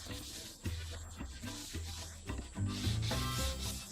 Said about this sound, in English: Sand the edges lightly